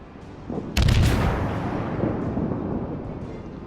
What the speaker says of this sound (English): So I begin turning my ship while I'm firing